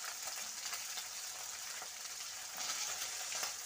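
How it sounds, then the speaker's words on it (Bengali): Small morola fish frying in a pan of hot oil, a steady dense sizzle with crackling pops that holds throughout, close and fairly loud with no voices. "মাছগুলো কিন্তু ভাজা হয়ে গেছে, আমি এবার নামিয়ে নেব।"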